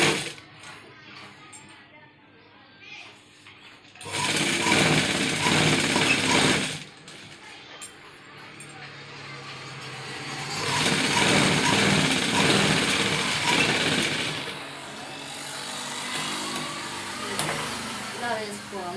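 Sewing machine stitching the folded hem of a dress pant, running in two loud bursts of steady mechanical whirring with a quieter pause between, up close.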